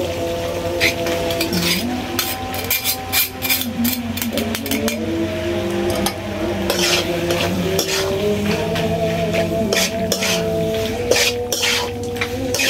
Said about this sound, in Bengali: ম্যাকারনিগুলো দিয়ে তারপর হচ্ছে ম্যাকারনিগুলো একটু ভাজতে হবে, কিছুক্ষণ ভাজতে হবে